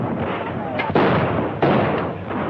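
Gunfire in a battle scene from an old war film, a dense, continuous crackle of shots with two louder bursts standing out, loud and sustained with a muffled, noisy character.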